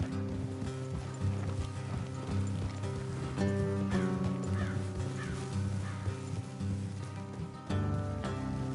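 Hooves clip-clop steadily at a trot over a busy backdrop of music and ambient game sounds, with the rhythm continuing throughout.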